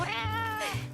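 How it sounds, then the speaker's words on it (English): Excited cat meows from a Felyne-style companion in the video game Monster Hunter Wilds, two bright, close mewing calls over a steady game music bed, with no talk. "Excited cat noises."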